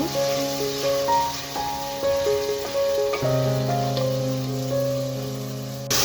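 Masala spices frying in hot oil make a steady, even sizzling hiss that runs the whole time beneath louder background music.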